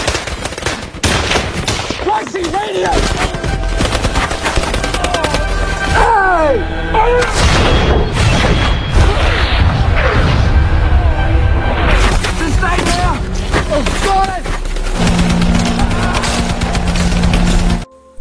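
Battle scene from a Vietnam war film, with loud artillery bombardment and bursts of rapid gunfire layered into a dense, continuous din, mixed with shouting voices and falling whistles, before cutting off abruptly.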